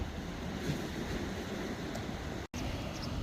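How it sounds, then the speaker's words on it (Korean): Heavy surf pounding a pebble beach beside a breakwater on a Korean coastal walking trail, a steady loud wash of breaking waves and wind with a brief dropout near the end. "파도가 참 여기는 엄청 친는 모양입니다"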